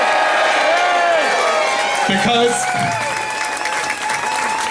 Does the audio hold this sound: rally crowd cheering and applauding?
yes